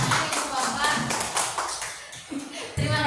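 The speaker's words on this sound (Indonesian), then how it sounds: "Iya, hebat, tepuk tangan Ibu Bapak." An audience of parents and teachers breaks into a short round of clapping at a school gathering, moderately close, with a brief dip and bumps of handling noise.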